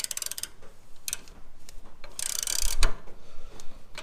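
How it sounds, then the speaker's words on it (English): An adjustable wrench works a stubborn, rust-treated bolt through a socket during a leveling coil kit install on a 2013-2018 HD Ram 2500/3500 pickup, giving clicky ratcheting mechanical bursts and scrapes, fairly close, with no talk. "I'm just using an adjustable wrench and pretty much just going off like this."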